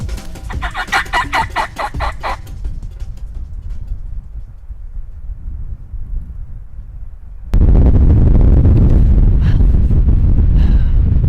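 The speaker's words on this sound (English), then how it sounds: "we're at a hen cluck just over the hill here" Wild turkey hen clucking over the hill in open country, a quick run of rhythmic clucks up front, then quieter ambience before a loud burst of close wind or handling noise takes over the second half.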